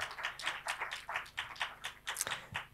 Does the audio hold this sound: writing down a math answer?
no